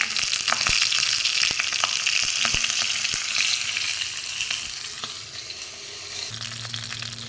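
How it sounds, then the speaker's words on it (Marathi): Mustard seeds, cumin and dried red chilies crackle in hot oil for a tempering, a steady bright sizzle with sharp pops scattered throughout, close and fairly loud, with no voices. "तेल छान तापलेलं आहे आता फोडणी करू मोहरी जिरे"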